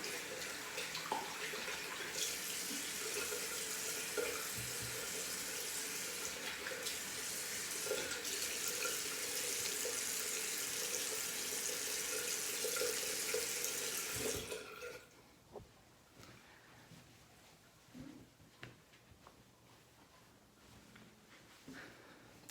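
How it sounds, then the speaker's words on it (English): Tap water runs steadily for about fifteen seconds while a razor is rinsed at a bathroom sink, then cuts off, leaving quiet handling noises. "Give it a rinse."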